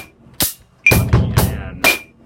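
Bass drum beats in a 1-e-and pattern, sounding as a few close, loud broadband thumps with bright attacks spaced irregularly, heard alone without talk.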